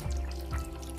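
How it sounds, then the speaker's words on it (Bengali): Hot water pours into a simmering egg masala curry with salt and garam masala, a short run of watery splashing and dripping close by, with no voices. "গরম জল মেশাবেন।"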